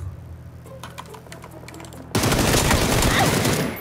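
Sudden loud sustained gunfire in a horror video game, erupting after a tense quiet stretch of faint clicking and low hum, then a dense continuous barrage to the end.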